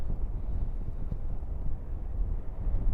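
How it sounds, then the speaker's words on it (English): A strong northerly wind on a beach buffets the microphone with a continuous low, rumbling roar that stays loud and unbroken throughout. "that northerly wind right on my face at 30-40 mile an hour"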